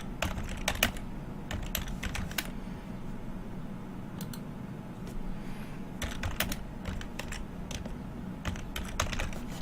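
Computer keyboard typing of a short message comes in quick bursts of crisp key clicks separated by brief pauses, close and clear over a low background hum.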